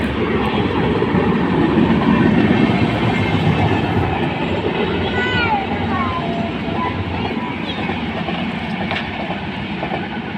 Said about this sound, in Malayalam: അപ്പൊ ട്രെയിൻ വരുന്നുണ്ട് കേട്ടോ